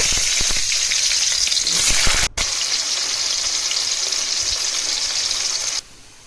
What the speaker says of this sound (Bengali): এদিকে রিফাইন তেলে আমি আলুগুলো লাল লাল করে ভেজে নিব